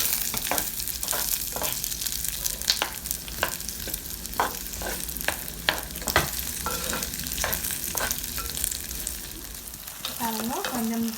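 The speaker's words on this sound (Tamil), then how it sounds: "அடுத்ததாக வெட்டின வெங்காயம், பச்சை மிளகாய் எல்லாத்தையும் ஒன்றா போடுவோம். போட்டுட்டு மிக்ஸ் பண்ணுங்க." Chopped onions and green chillies frying in a hot pan for Jaffna-style fish curry, a continuous sizzle broken by repeated sharp scrapes and clacks of stirring, close and fairly loud.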